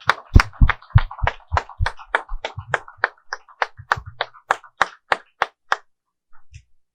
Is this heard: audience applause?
yes